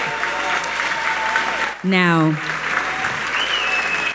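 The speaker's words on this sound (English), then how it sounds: "Please give a warm round of applause for Dr." Applause from the crowd at a radio station's anniversary awards celebration fills the space as a steady, dense clapping. It is briefly broken by a short spoken word and a rising electronic tone.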